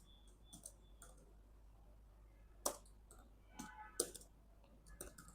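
A computer keyboard is typed on in short, sparse bursts of light clicks with a few sharper keystrokes, faint and close, with no talking.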